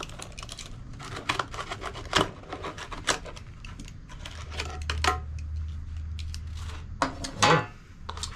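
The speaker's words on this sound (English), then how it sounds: "So, blade right into the spider." A blade cutting out the spider of a Sundown Audio 12-inch subwoofer during reconing, heard up close as irregular scraping, ticking and snapping cuts in a steady stream with no talk.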